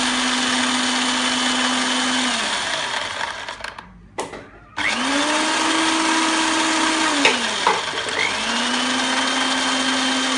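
Dry-roasted coconut and spices for biryani being ground in an electric grinder: a loud, steady motor whine that cuts out briefly partway through, then spins back up and runs on.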